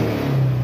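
A Honda Click 125 scooter with a remapped engine revs briefly as the throttle opens, a close, steady mid-pitched engine drone that swells slightly, alone without talk.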